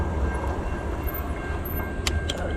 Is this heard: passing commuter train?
yes